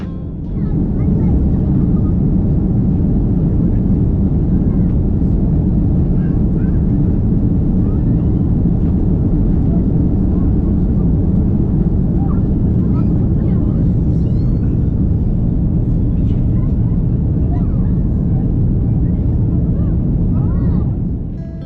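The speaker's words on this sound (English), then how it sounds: "The safety video came on and we taxied out to the runway." Turkish Airlines A330 cabin while taxiing out to the runway: a steady, loud low engine and airframe rumble that holds unbroken throughout, with faint voices underneath.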